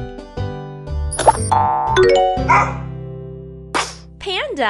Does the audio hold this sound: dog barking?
yes